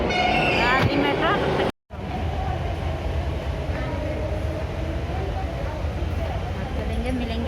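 A Delhi metro train bound for Vaishali runs close by as a steady, loud rumble across the whole stretch, with a brief gap of silence early on and people talking over it.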